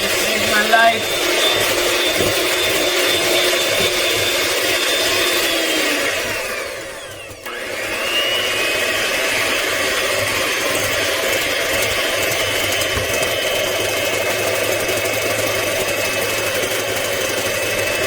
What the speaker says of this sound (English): I think I had the mixer on too high